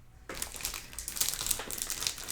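Paper for a mini album is cut close up after a brief quiet moment, giving a short run of crisp rustling and crinkling snips that sound soft but clear.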